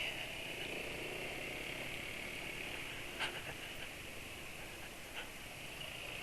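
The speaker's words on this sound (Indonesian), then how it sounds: "Jadi pertama mesin dinyalakan itu nggak ada kelotaknya lagi." A car engine idles steadily after a cold start, running smoothly with no knocking, a constant mid-pitched hum with faint broadband hiss and no talk.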